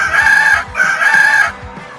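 A rooster crows twice in quick succession, each call a loud, close, drawn-out cock-a-doodle-doo with a short gap between them and nothing else around it.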